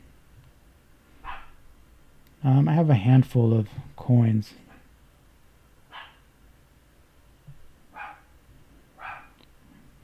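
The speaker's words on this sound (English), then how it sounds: "That's my dog barking in the back." A dog barks in the background in several short, separate bursts, faint and distant, spread across the clip, with someone speaking briefly in the foreground.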